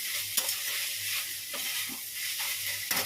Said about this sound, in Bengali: রসুন দিয়ে করি আর শুকনো লঙ্কা কালো দিয়ে পোড়ন দিয়েছি ব্যাস এই দিয়ে ভাজছি